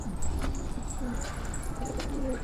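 Soft, repeated cooing of pigeons close by on a high rooftop in Gaziantep, Turkey, low throaty calls recurring in a loose rhythm over faint background noise.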